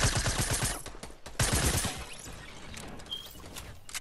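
Gunfire in a multiplayer shooter video game: rapid bursts of shots in quick succession at the start and again in the middle, fading to quieter background rattle.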